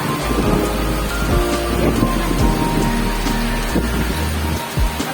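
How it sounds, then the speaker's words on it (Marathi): Heavy rain pours down in a dense, loud, continuous roar, with low rumbles of thunder rolling underneath throughout. "फ्रेंड्स, किती पाऊस पडतोय बघा."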